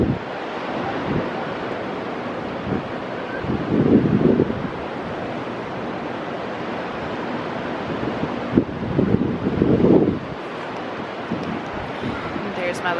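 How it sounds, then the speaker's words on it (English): Steady roar of wind and surf throughout, with two swells of breaking waves rising and falling; no talk. "it's just really windy. And I usually just sit up here on the balcony and watch the waves"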